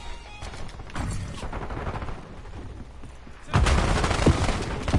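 Sustained gunfire in the battle royale game Warzone, on the Area 99 resurgence map, crackles steadily throughout and swells into a louder, closer barrage in the last second and a half.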